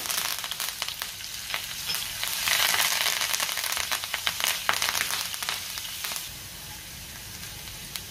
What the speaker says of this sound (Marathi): हिंग घालायचंय, त्यातच ठेचलेलं लसूण घालायचं, कढीपत्ता